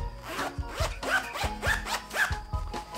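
A zipper on the back pocket of running shorts is pulled open and shut repeatedly, several quick rasping zips in a steady back-and-forth rhythm, close and clear with no talking.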